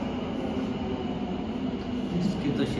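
A three-coach Ahmedabad Metro train at the underground Kalupur station makes a steady, loud, broadband roar and rumble that fills the whole moment, with no gaps.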